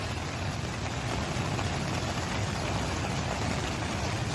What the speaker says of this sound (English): it's putting some rain down